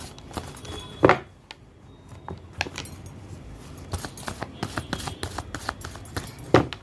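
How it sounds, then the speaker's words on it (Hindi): Tarot cards shuffled by hand at close range, a run of soft papery riffles and taps with a couple of sharper knocks, no talking over them. "कार्ड को अच्छी तरह मिक्स कर लेती हूँ मैं।"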